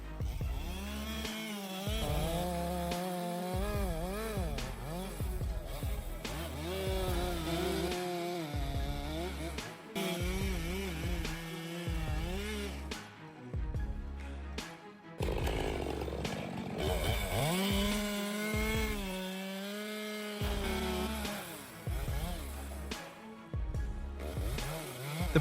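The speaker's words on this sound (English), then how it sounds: "The precision of this chainsaw is insane. Cutting through wood effortlessly and with speed" A Stihl MS462 chainsaw cuts through wood during firewood processing, its engine loud and close throughout, rising and falling in pitch as the cuts load and release, with brief lulls between passes.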